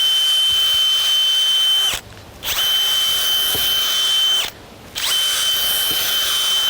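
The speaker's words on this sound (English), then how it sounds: "And what you do with this is drill all the way down." Power drill bores down into garden bed soil, whining steadily in three long bursts separated by brief pauses, close and loud.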